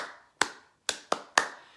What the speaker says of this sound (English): I need you to turn those words into body percussion. So here I go. Ta, ta let's use clapping, okay?